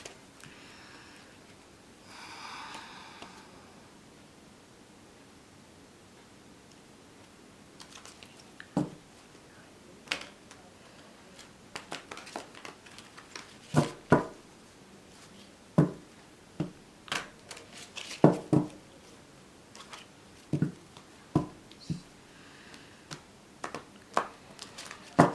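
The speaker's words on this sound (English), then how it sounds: "So just give me a few seconds so that I can shuffle." A deck of oracle cards is shuffled by hand in a quiet room: a soft rustle and then a run of sharp, irregular taps and flicks as cards slap together, close and crisp.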